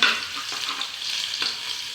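Ginger and garlic sizzle and crackle steadily in hot oil with cumin seeds, a close, continuous frying hiss with a few brief stirring scrapes and no voices.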